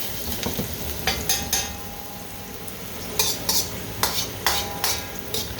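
Aromatics sizzle in hot oil in a pan for kitchen-sink fried rice, with steady frying hiss beneath repeated sharp scrapes and stirs of a utensil against the pan, no voices.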